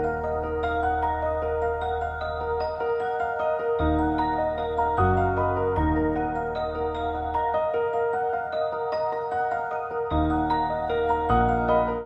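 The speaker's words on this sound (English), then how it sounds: "So with the piano and the Celeste, sounds like this." A piano and a bell-like Celeste mallet preset play together as a layered melodic loop in an FL Studio beat, with sustained low bass notes shifting every couple of seconds under the chiming upper line, steady and continuous with no talking.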